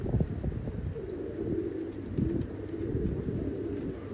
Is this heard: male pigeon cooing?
yes